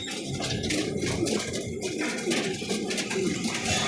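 Pigeons kept in a backyard loft coo in soft, repeated throaty rolls, fairly close and continuous against a faint background, with no clear talk.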